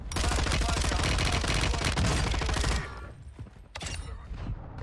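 Rapid sustained LMG fire from a KV Broadside class setup in Call of Duty Warzone on Ashika Island, loud and dense automatic bursts for nearly three seconds, then dropping to scattered quieter shots and game noise.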